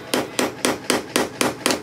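A screw seated on a drill bit being tapped through sheet metal during an RV cable slide-out repair, six sharp evenly spaced knocks, close and loud.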